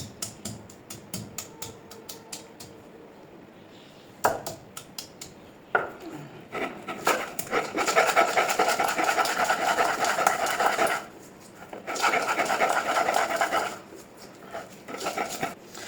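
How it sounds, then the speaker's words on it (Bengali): Garlic being ground into paste on a grinding stone, a close rhythmic scraping and rubbing that runs in bursts with brief pauses between strokes. "এখন এই রসুনগুলো বাটবো"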